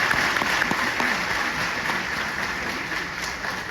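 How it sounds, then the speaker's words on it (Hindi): Audience applause at a youth convention lecture in Sikkim, a dense burst of clapping from a large hall crowd that starts strong and gradually thins and softens over a few seconds. "ताली तो बजा दी आपने"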